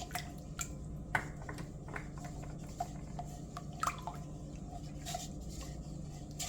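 Egg and lemon zest are stirred into sugar for a Jamaican Easter bun, with quiet wet squishes and light clicks of a utensil against a bowl at an irregular pace, faint and close.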